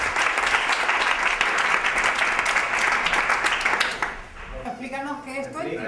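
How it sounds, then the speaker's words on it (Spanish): Sustained applause from a room of people for a guest named Cristian, dense clapping filling about four seconds before cutting off, followed by voices talking. "un fuerte aplauso para Cristian."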